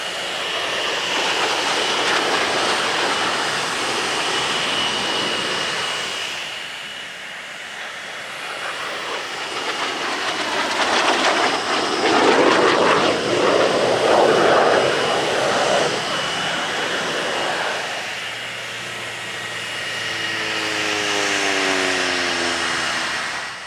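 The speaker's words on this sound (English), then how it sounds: "we come now to the main event as aircraft begin to launch for the air parade" Military jets launching for the air parade at the Italian Air Force centenary airshow, a continuous loud engine roar that swells and fades as aircraft pass, with a whining tone shifting in pitch near the end.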